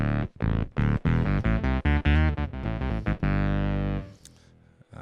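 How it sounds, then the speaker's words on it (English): A modular guitar pedalboard plays a run of short, loud, buzzing distorted notes thickened with octave and synth-like voicing, choppy and rhythmic, then one long held tone that fades away. "Throw in some other voicing, some octaves, get some synthy kind of sounds."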